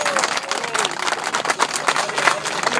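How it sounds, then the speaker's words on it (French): An audience of men applauding a woman mayor at a French gathering, a dense, close, steady clatter of many hands clapping that carries on without a break for the whole stretch. "Ça fait toujours plaisir d'être applaudi par des hommes"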